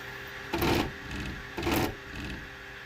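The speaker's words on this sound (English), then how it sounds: "Y-axis print bed movement sounds and looks smooth." Two short mechanical whirring bursts, each about half a second, separated by a pause, from an AnkerMake M5 3D printer's Y-axis print bed sliding back and forth over faint background hum.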